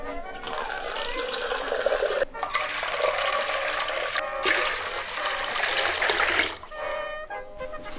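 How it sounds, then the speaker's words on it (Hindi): Around two litres of water pour steadily into a container for gol gappe water, a loud continuous splashing gush interrupted by two brief pauses and ending in a trickle. "लगभग 2 लीटर पानी डालना है इसमें"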